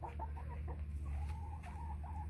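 Soft, intermittent hen clucks in a short run of murmuring calls, set against a steady low background hum.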